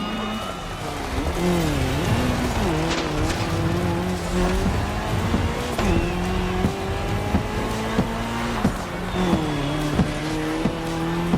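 A car and a KTM motorcycle race in The Crew Motorfest, engines revving loud and close with rising and falling gear shifts, tire squeals and skids over a constant racing roar.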